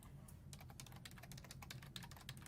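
Rapid clicking of computer keyboard keys being typed at a news live desk, steady irregular taps close by over a low background hum, with no voices.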